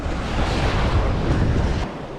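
Strong wind at a beach at Flag Ponds Nature Preserve buffets the microphone in a steady roar with surf-like rushing beneath it, easing slightly near the end.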